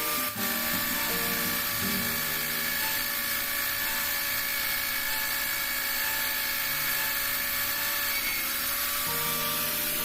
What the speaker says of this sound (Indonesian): Nah teman-teman bor di titik yang telah ditentukan tadi ya.